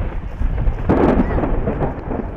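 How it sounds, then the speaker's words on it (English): A rumble of thunder rolls in during a lightning storm over Thurston County, a heavy burst swelling about a second in and fading into a long, steady low roar. "Then lightning lit up the sky as powerful bolts branched down and set off a chain reaction of devastation."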